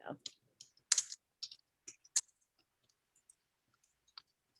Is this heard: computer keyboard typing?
yes